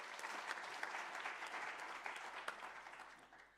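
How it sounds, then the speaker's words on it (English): A crowd at the G20 Africa Investment Summit breaks into sustained applause, many hands clapping in a steady, fairly distant wash with a few sharper claps standing out. "Let's give them a big round of applause."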